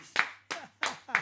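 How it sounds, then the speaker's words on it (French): Four sharp, evenly spaced hand claps ring out close by in a radio studio, with a low steady hum underneath. "Applaudissements, s'il vous plaît."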